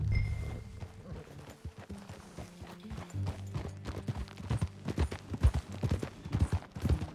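Horse hoofbeats in Red Dead Redemption 2 as a rider sets off, a steady clip-clop of hooves on the ground growing louder and quicker over a low bed of ambient game sound, with brief voices near the start.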